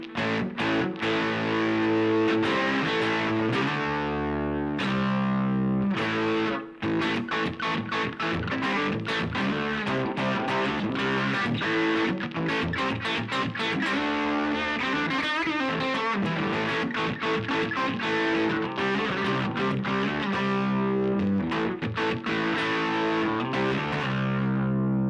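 An electric guitar plays continuously through new Catalinbread effect pedals, giving a dense, distorted tone with strummed chords and busy riffs for the whole stretch.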